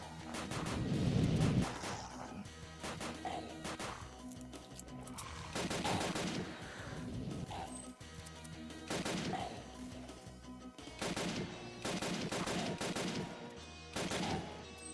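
Rifle gunfire in the video game Final Stand 2: loud, repeated shots in rapid bursts with short pauses between volleys, continuing throughout without speech.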